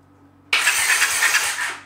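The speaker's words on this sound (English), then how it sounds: "let's turn her on for the first time" Honda CX650 E cafe racer motorcycle engine firing for the first time, a sudden loud start after a quiet moment, then a rough, rattly run that fades slightly, heard alone.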